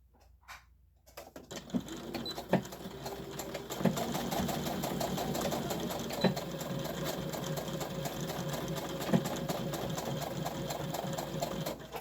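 A sewing machine stitching fabric for a hanging storage pod starts after a few clicks and a short pause, then runs in a steady, close mechanical whir with rapid needle rhythm and occasional knocks, with no talk.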